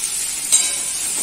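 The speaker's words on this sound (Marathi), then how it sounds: "सारखं परतत राहायला लागणार, कारण ते खाली चिकटत राहतं ना, कांदा करपायला नाही द्यायचा." Onions sautéing in a pan for Malvani-style clams: a close, steady sizzle and hiss from the frying onions, with a brief stirring scrape in the middle and no voices.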